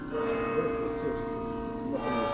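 Church bells in York ring out steadily, a sustained resonant peal with layered ringing tones, moderately distant and continuous throughout.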